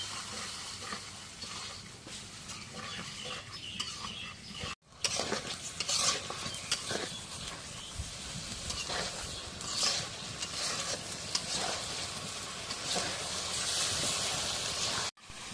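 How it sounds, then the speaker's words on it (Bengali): Spices frying in mutton fat for pulao are stirred in a pan, with a steady sizzle and hiss under repeated scraping and clinking of a utensil, close and fairly loud, broken by two brief cuts. "সব কিছু দেওয়া শেষ, এখন নাড়া দিই"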